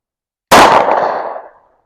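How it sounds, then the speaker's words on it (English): A single Taurus 709 Slim pistol shot fired at a steel target from 15 yards, one loud, sharp crack that rings out and decays over about a second. "there's the first shot, and I think I completely missed the target"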